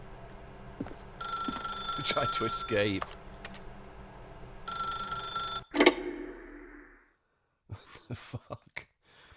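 A telephone rings with a repeating electronic trill in the video game The Stanley Parable, sounding in two bursts beside keyboard typing, followed by a sharp click, a short silence and a voice speaking.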